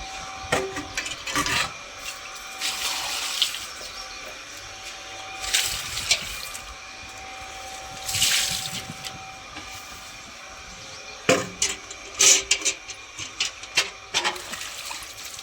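A porch floor being washed and scrubbed with water, with bursts of rough scrubbing and splashing separated by quieter gaps, close and fairly loud.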